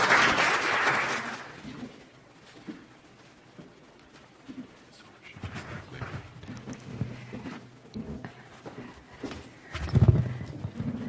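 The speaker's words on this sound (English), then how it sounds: "we can clap too." Audience applause following a speaker introduction at an academic talk on endangered languages, a burst of clapping at the start that fades, then scattered claps and room noise.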